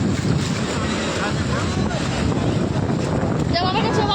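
Sea waves rush in at Digha beach with strong wind buffeting the microphone, a loud continuous roar of surf as people talk nearby.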